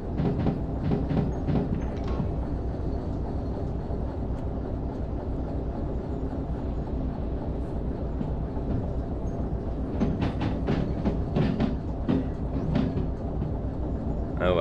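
A train rolling backwards in the railway game Derail Valley, with a continuous rumbling run and rhythmic clacking of wheels over rail joints, steady and fairly loud throughout.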